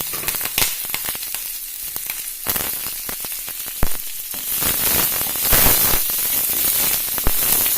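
Green chillies and onion fry in hot oil with curry leaves for a ladies' finger poriyal, a loud, crackling sizzle with sharp pops and spatters that swells and fades as the pan is stirred.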